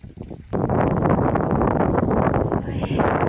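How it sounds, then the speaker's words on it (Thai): Wind buffets the microphone outdoors in a sunny flower and strawberry garden, a loud, rough, continuous roar that takes over after a brief quieter moment. "นี้ถึงมีแสงแดดแต่ก็ลมพัดเย็นสบายค่ะ"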